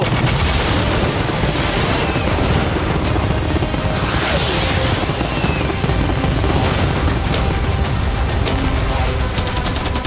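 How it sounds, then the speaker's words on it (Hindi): Cannons, fireworks, arrows and catapults in a video game firing all at once, a dense, continuous barrage of bangs, cracks and crashing impacts that stays loud throughout without a break. "मैं चाहता हूँ कि तुम कैनन्स, फायरवर्क्स, एरोस, कैटापल्ट्स सब कुछ एक साथ फायर करो।"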